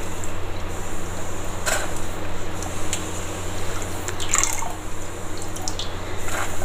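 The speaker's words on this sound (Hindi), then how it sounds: "तो पहले हम इस दाल चावल का अच्छे से पानी निकाल लेंगे।" Water draining from soaked lentils and rice for Jharkhand dhuska batter, a steady trickling and dripping with a few brief splashy squishes, close and moderately loud, no talking.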